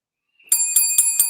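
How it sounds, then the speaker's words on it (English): A bright bell sound effect rings out as four quick, evenly spaced metallic dings, loud and alone after a brief silence. "You hit that bell on that one, DS."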